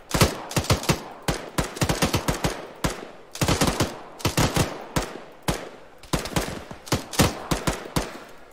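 Loud, close automatic gunfire in the military shooter ArmA 3, repeated bursts of rapid shots separated by short gaps, with no talking.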